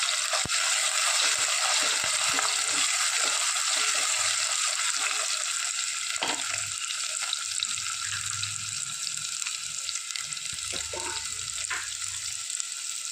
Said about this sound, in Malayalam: ഈ ഇഞ്ചി വെളുത്തുള്ളിയൊക്കെ നന്നായിട്ടൊന്ന് മൂത്ത് വരട്ടെ. നമുക്കൊന്ന് ഇളക്കി ഒഴിപ്പിച്ച് കൊടുക്കാം.